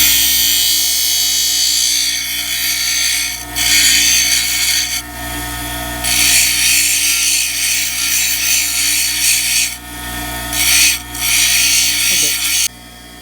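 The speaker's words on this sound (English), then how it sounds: "I got these 2 shaped on the grinder" A bench grinder shapes soft chiastolite beach rocks, its loud steady whine rising into harsh grinding bursts as stone presses against the wheel, close and continuous throughout.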